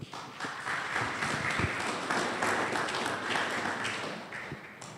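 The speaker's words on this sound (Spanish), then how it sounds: "Lo recibimos con fuertes aplausos." A conference audience applauds a foundation's representative as he is welcomed to speak, with steady, fairly close clapping from many hands and a few sharper individual claps standing out.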